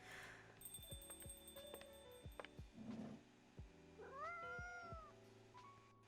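A cat meowing in a coffee shop video game, several short rising meows near the middle and end amid soft game chimes and a low background hum.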